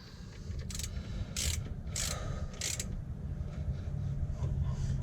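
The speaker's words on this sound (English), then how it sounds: "we'll lock that nut off as well" A ratchet wrench tightens a nut on an engine during a rebuild, giving four distinct bursts of quick metallic clicking close by, with a low mechanical hum underneath.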